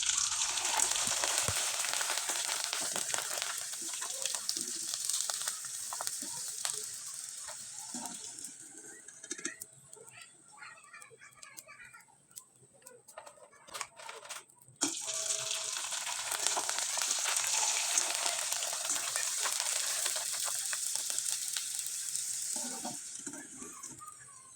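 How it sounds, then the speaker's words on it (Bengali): Sago pitha fry in hot oil, giving a dense, bright, continuous crackling sizzle that quiets for a few seconds midway, then surges back at full strength as more pieces go in. "একইভাবে আমি কয়েকবার ভেজে আপনাদের দেখিয়ে দিচ্ছি।"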